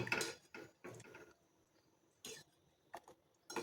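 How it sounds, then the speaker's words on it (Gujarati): A spoon stirs besan kadhi chutney in a pot, giving scattered metallic clinks and scrapes against the pot in a quiet room, with short gaps between them. "બધું જ આપણે સારી રીતે મિક્સ કરી લઈશું"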